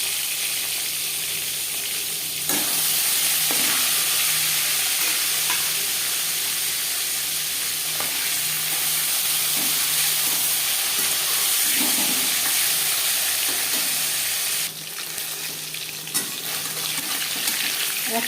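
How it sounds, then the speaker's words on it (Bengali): Koi fish coated in salt and turmeric fry in hot refined oil, giving a loud, dense, continuous sizzle close by, with a few clatters as the pan is handled and no talking. "4 চামচ রিফাইন্ড অয়েল গরম করে নিয়েছি। এবার দিয়ে দেবো লবণ হলুদ মেখে রাখা মাছ।"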